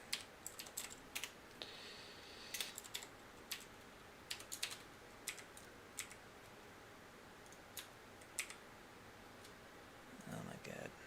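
Quick bursts of keystrokes on a computer keyboard while entering a spreadsheet formula, irregular clicks spread across the clip at moderate distance, with a brief rustle near the end.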